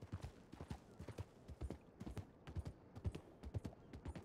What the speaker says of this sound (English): There's a horse at the sheriff's office.